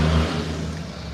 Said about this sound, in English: I'm in a truck, so it's kind of loud